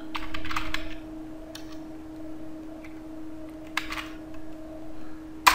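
Typing on a computer keyboard comes in a few scattered bursts of close, crisp keystrokes over a steady electrical hum, with pauses between the bursts.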